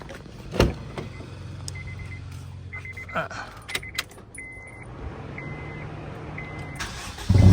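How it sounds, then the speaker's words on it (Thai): A 2012 Honda Civic FD 1.8 with manual transmission: keys jingle, then electronic beeps, then the engine cranks and fires at the very end, loud and close inside the car. "เดี๋ยวเรา ไปติดเครื่องให้ดูกันนะครับ"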